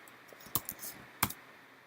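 Faint typing on a computer keyboard, with a few soft, scattered key clicks and two sharper taps close together.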